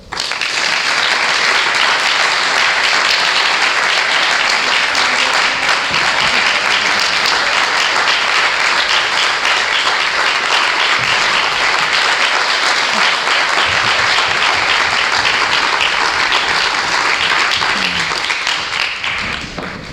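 Sustained applause from a lecture audience welcoming activist Kathy Kelly to the stage, a dense, steady wash of clapping that holds loud and even for the whole stretch with no voices over it.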